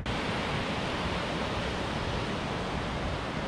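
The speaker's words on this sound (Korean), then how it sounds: "바람소리," Steady, dense broadband whoosh of wind at a camping spot in Danyang, constant and loud with no gusts or other sounds.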